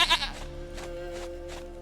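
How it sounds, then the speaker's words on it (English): A goat bleats in the video game The Witcher 3: Wild Hunt. One loud, wavering bleat opens the clip and quickly fades into quieter game ambience. "Goat of mine, dearest, sweetest goat."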